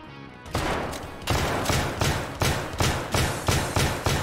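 Gunfire in the shooter game Escape From Tarkov: after a quiet start, about nine heavy shots ring out at a regular pace, each a loud booming crack with a short tail, with no voices.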